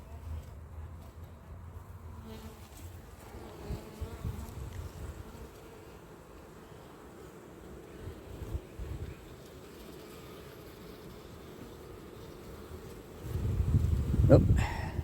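Honeybees buzzing at a hive during an autumn inspection, a soft, continuous drone close by with some rustling, growing louder near the end.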